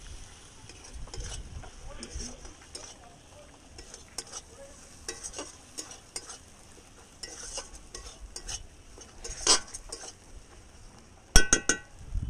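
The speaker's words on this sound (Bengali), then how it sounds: "এর মধ্যে দিয়ে দেব লঙ্কার গুঁড়ো, দিয়ে এবারে এটাকে ভালো করে নাড়িয়ে দেব।" A spoon stirs lote fish with chili powder in a frying pan, giving scattered scrapes and light clinks over a faint sizzle, with a few sharper metallic knocks near the end.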